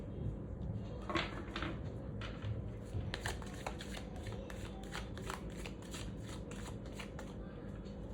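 Tarot cards shuffled by hand, a steady run of soft riffling and flicking close by for several seconds over a constant low background hum, with no speech.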